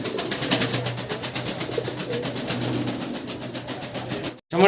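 Indian Kagzi pigeons coo softly and repeatedly over a steady rhythmic mechanical hum, then the sound cuts out abruptly near the end.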